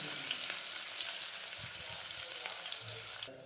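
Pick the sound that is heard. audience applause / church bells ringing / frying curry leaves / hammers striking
frying curry leaves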